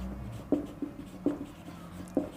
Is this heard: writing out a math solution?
yes